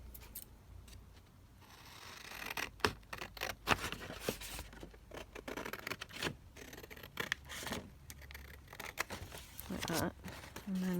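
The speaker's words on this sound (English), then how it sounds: "So I'm wondering whether, let's cut this one down" Scissors snip paper ephemera in quick irregular cuts, with crinkling and handling of paper between snips; a voice speaks quietly at times.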